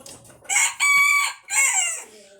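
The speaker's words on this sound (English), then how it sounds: "There's little chickens everywhere." Small chickens calling: three loud, drawn-out harmonic squawks in quick succession, close by, ending in a fainter trailing note.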